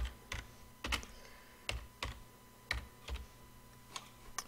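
Keys clatter on a computer keyboard as a name is typed, short clusters of crisp taps separated by brief pauses, close and fairly quiet over a faint steady hum.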